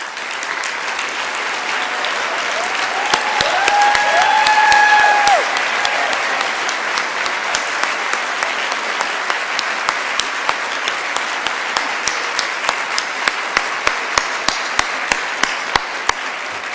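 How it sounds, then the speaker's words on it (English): A graduation audience applauds the standing Year Up Providence class: dense, sustained clapping from a large crowd, swelling briefly early on, with a few isolated loud claps emerging near the end. "we can applaud you"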